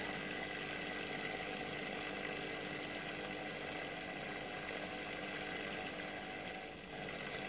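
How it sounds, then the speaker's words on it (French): A wet vacuum drones steadily at close range, sucking sediment out of a water settling tank in a continuous loud whine that dips briefly near the end. "On aspire tout"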